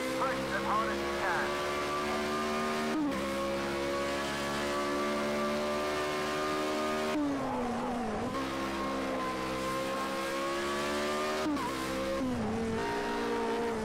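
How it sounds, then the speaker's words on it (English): Race car engines roar through a Project Cars 2 racing game, steady high revs with gear shifts and pitch swoops near 3, 7.5 and 11.5 seconds, loud and continuous with no music. "There doesn't seem to be like a soundtrack, no music, just the pure sounds of the racing."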